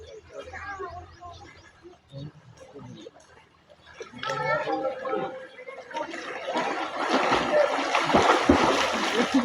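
Two children swimming and splashing in water during a morning swim in the provinces, with talk and laughter early on giving way to louder, busier splashing in the second half.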